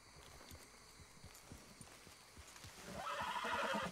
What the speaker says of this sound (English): Oh, my horse is so nervous.